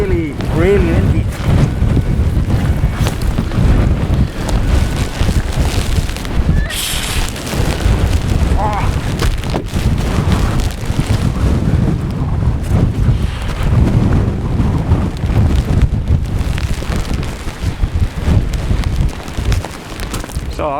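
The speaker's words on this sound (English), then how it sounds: "It's really windy. I mean really, really windy." Loud, continuous wind roaring and buffeting against the microphones of a Zoom F3 recorder outdoors for the whole stretch, with occasional gusts surging louder.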